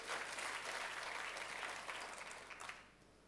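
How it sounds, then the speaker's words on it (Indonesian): A church congregation gives lively applause to God during a service, a dense wash of clapping that carries on strongly before thinning and fading out near the end. "tepuk tangannya yang meriah buat Tuhan kita"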